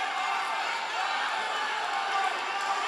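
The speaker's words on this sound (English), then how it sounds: "And now the fans cheering for Sao Paulo's Kaue Vise" An MMA arena crowd keeps up a steady, distant roar of cheering and murmur throughout, with no clear voices.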